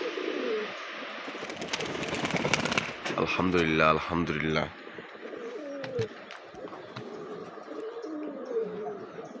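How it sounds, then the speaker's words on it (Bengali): Pigeons coo in low, rolling calls nearby in a loft, a Bombay pigeon calling alongside a local pigeon, with someone speaking briefly between the coos. "চমৎকার বোম্বাই কবুতর দেখেন ডাকতেছে একটা দেশি কবুতরের সাথে"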